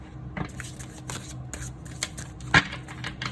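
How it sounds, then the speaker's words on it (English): Tarot cards are shuffled close by in a run of quick, crisp riffling flutters, with one sharper snap near the end. "You heard me over here shuffling these cards."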